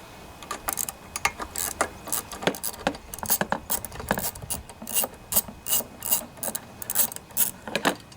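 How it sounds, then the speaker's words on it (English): A 3/8 socket ratchet on an extension clicks rapidly and repeatedly, close up, while backing out a bolt on the carburetor of a Toro GTS lawnmower with a Tecumseh engine. There is no speech over the clicking. "what I usually use to remove this is a 3/8 socket with an extension and a 7/16 inch wrench"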